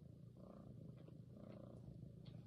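A sleeping cat purrs softly up close, a low steady rumbling flutter that continues evenly throughout, quiet and alone with no talk.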